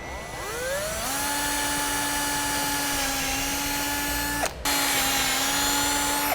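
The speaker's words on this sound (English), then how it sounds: "we'll drill a 1/4 inch hole right through those marks" A power drill whines steadily at a high pitch while boring a 1/4 inch hole for side step hardware, briefly cutting out and restarting, heard up close with no talking.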